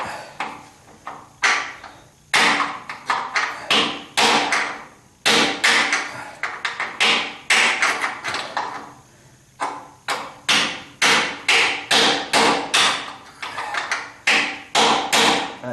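A hammer driving a chisel against a 1976 Corvette trailing arm in a close, loud string of sharp metallic blows, some quick runs and some spaced strikes, with no talking.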